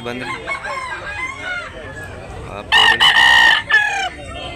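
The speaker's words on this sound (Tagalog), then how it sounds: "Ilan manok ka, Boss Nir?" A gamecock rooster at a cockfighting breeder's in Talisay, Cebu crows loudly and close by near the end, one long strained call, while someone speaks earlier and other fowl cluck in the background.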